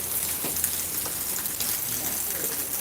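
Steady evening rain falling in Pollachi, a constant dense hiss with scattered drop patter, even and unbroken throughout.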